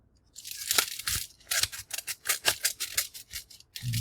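Scissors snip open a stapled paper mailer in quick repeated cuts, crisp and close, with brief pauses between strokes and no voices.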